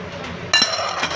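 A lid comes off a pot of ginataang manok, chicken with vegetables simmering in coconut milk, giving a single sharp metallic clink that rings briefly over a low background hiss.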